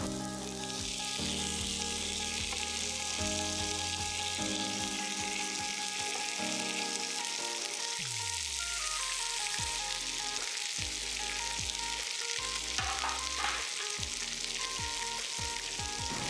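Fish fillet frying in a pan for a stir fry, giving a steady bright sizzle that runs the whole time beneath prominent background music.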